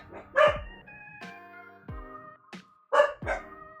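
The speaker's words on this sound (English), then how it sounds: "Even the dogs didn't like that one." Dogs in the video game A Date With Death bark in sharp, close, separate yelps, about four barks spread unevenly across a few seconds with short gaps of near silence.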